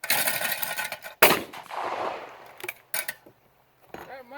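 An economy Turkish shotgun fires at clay targets outdoors, one sharp close blast followed by a rolling echo, with a fainter pop and short voices afterward.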